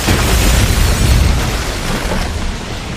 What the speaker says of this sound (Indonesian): bom yang ia rakit sebelumnya langsung terpicu dan meledakkan gedung markas dari United Data Group tersebut